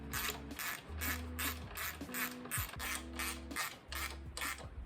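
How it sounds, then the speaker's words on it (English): Rapid rhythmic ratchet clicking in steady bursts, close and clear, as nuts with washers and lock washers are tightened onto bolts with a 1/2-inch wrench while installing a remote hydraulics kit on a New Holland tractor loader. "tighten them with a 1/2" wrench"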